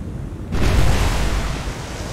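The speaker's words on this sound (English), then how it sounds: "Big explosion there." A big explosion in a naval battle in the War On The Sea game erupts suddenly as a loud, broad roaring blast that sustains and slowly fades, with no voices.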